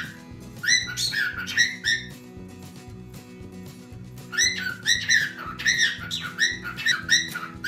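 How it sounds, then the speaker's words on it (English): A pet bird whistling and chirping nearby in short bursts of bright, warbling notes, pausing in the middle and then starting up again, heard alone over faint room noise. "And apparently the bird really likes it."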